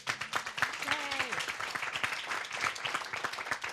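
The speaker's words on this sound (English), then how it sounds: "this is round of applause," Audience applause at a housing community forum, a dense round of clapping running throughout, with a voice briefly speaking over it near the start.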